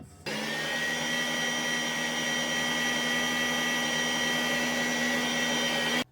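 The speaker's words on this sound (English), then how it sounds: "Then add 1/2 of a 397 grams tin of condensed milk and whisk." An electric mixer whirs steadily at high speed as egg yolks are whisked with condensed milk, starting abruptly and running alone for several seconds before cutting off.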